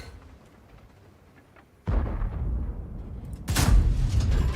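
In a video game, the Erich Konzept I tank fires its main gun twice, each a sudden heavy booming blast followed by a long rumbling tail over a quieter bed of sound.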